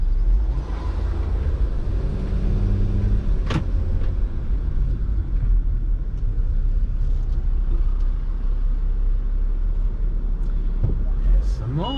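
Cars roll down a hill into a car park, giving a steady, loud engine rumble with passing vehicles and a brief hiss partway through, while people talk over it.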